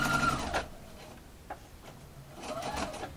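A sewing machine stitches a gathered set-in sleeve, running in short close bursts with a brief pause and a small click between them.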